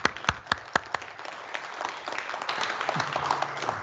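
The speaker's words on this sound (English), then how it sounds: "Let's all please give a warm round of applause to Alan McEachran." Audience applause for an award recipient at the AutoCarto 2022 opening session, starting with a few sharp separate claps that swell into steady, sustained clapping from a seated crowd.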